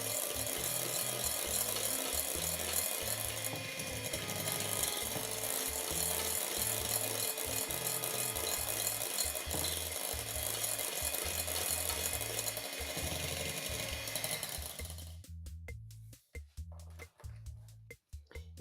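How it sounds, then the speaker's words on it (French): A kitchen mixer blends pastry cream for a raspberry cake until smooth, a loud, steady, rhythmic mechanical whir that runs continuously and then cuts out into clicking stops. "je la mixe de nouveau de façon à faire un appareil lisse"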